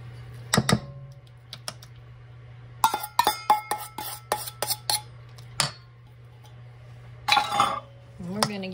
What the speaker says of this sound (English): So the first thing I need to do is mix in one egg.